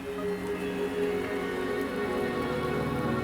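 Steady, even rainfall in the video game Wuthering Waves, a dense unbroken patter with faint tonal music beneath, constant in level throughout and no talking.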